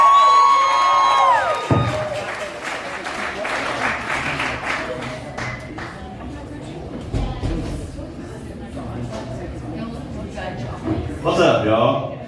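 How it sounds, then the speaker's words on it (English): A comedy club crowd applauds and cheers as a comedian takes the stage, a burst of clapping and whoops over a lingering tone, easing into scattered claps and chatter before another cheer near the end. "Please make a big round of applause for my good friend, the hilarious Shannon Mugridge."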